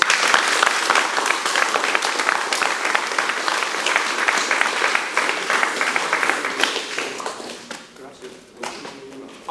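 Sustained group applause at a jiu-jitsu seminar belt promotion, steady dense clapping from a crowd with voices mixed in, fading toward the end.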